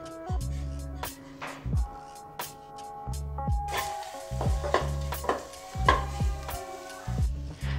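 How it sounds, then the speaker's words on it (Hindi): Mawa (khoya) roasting in a hot pan, with a spatula stirring and scraping in repeated close strokes over a soft background sizzle. "इसमें हम डाल देंगे मावा, और इसको थोड़ा सा भून लेंगे, लाइट ब्राउन होने तक हम इसको भून लेंगे"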